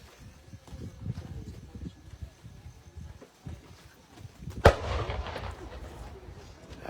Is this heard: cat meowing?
no